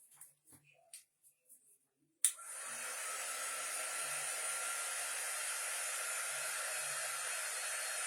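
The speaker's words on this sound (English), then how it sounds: "I'm going to take my dryer and I'm going to dry this" A hair dryer drying ink starts after a few soft taps and then blows as a steady, close, loud whoosh that continues to the end.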